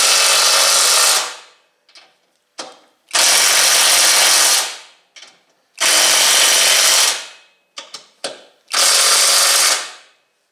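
A power drill tightens bolts while fitting shocks and struts on a 2013 Mustang GT, running in several long bursts separated by short pauses and brief trigger blips, loud and close, with no talking.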